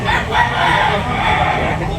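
A rooster crows loudly and close amid the bustle of an open-air chicken market in Tabunok, Talisay, Cebu, with clucking and crowd noise around it.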